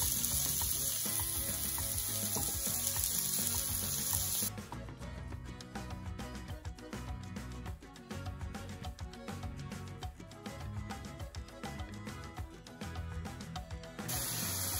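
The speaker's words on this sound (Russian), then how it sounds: "Наша зажарка жарится" A vegetable base fries in grape seed oil in a home kitchen pan, a loud continuous sizzle that drops slightly after a few seconds and holds steady, with faint clinks of stirring.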